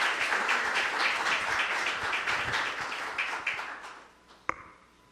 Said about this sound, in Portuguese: receba a nossa gratidão, também nossos aplausos